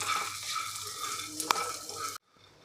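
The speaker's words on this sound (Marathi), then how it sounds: "लसूण आणि शेंगदाणे हे सगळं आपण खमंग असं भाजून घ्यायचं आहे" Chana hurda, garlic and peanuts dry-roast in a pan with a busy crackling sizzle and scraping stir strokes, one sharp clink near the middle, then the sound cuts off abruptly into near silence.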